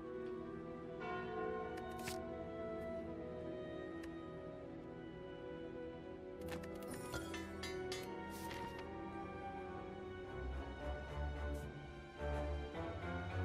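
A chime from the Calling Bell relic in the Slay the Spire video game rings out in bright bursts over steady, sustained game music, with a cluster of strikes in the middle of the stretch.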